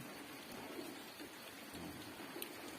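Light rain falling around a field hut in farmland at the edge of a forest: a soft, even patter and hiss that holds steady, with faint bird calls now and then.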